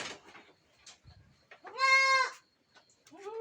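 Goats on a breeding farm call out nearby with one loud, wavering bleat, followed by a shorter one, set among quieter rustles and faint animal noises.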